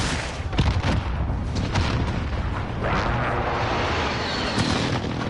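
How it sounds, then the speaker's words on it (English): Heavy explosions from a precision airstrike in a combat video game, a continuous rumbling barrage of booms and blasts with several sharper impacts early on, loud and dense throughout. "Precision airstrike."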